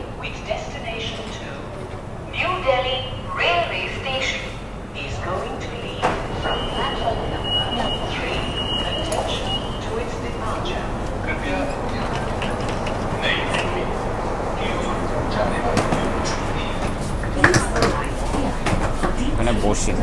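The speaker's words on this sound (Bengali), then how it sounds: "ফাইনালি নিউ দিল্লি স্টেশন যাওয়ার জন্য দেখো মেট্রো চলে এসছে" A Delhi metro train pulls into the station and runs on, a low rumbling roar with rising clatter and a thin tonal whine, while someone talks over it throughout.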